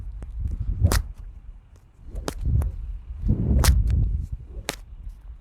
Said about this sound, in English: It's a move where you simply release the handle and then catch it again before swinging or cracking the whip.